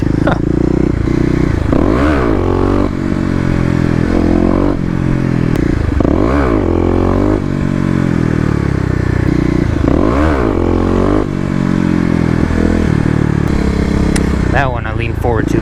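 A Kawasaki KLX250 dirt bike revs and surges through repeated wheelie attempts in a parking lot, its engine rising and falling in loud bursts with clattering, while a rider talks over it.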